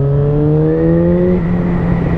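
A Yamaha XJ6 motorcycle engine tuned to 47.5 hp pulls hard, its loud, close whine rising in pitch as it accelerates, then settling into a steadier drone over roaring wind.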